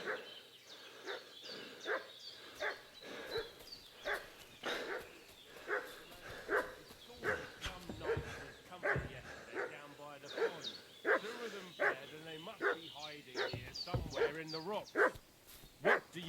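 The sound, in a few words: dog barking and making a fuss, from video game Kingdom Come Deliverance 2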